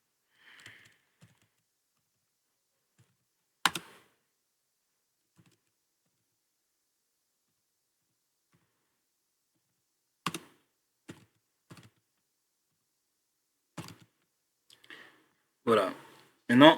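A name is typed on a computer keyboard in a few sparse, quiet bursts of keystroke clicks separated by long silent gaps, ending in a quicker cluster of taps.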